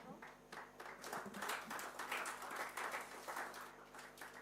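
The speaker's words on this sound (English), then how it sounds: "Ladies, another round of applause for this wonderful" An audience at an industrialization conference applauds a panel with a steady, dense wash of clapping over a faint low hum, holding at an even level throughout.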